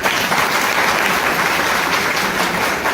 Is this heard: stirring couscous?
no